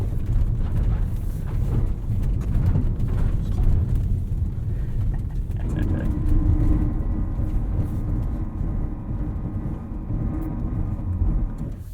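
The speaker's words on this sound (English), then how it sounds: "I think that might be the worst sounding ABS noise I've ever heard" Anti-lock brakes pulse on a 2021 Toyota RAV4 Prime XSE sliding on snow in electric mode, a harsh buzzing grind over continuous road and tyre rumble, growing more tonal and mechanical midway.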